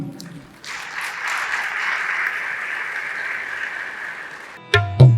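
At an international Iqbal conference session, an audience breaks into steady, full applause to welcome a harmonium player about to perform Iqbal's poetry. The applause builds quickly, holds for about four seconds, then gives way to a few louder knocks.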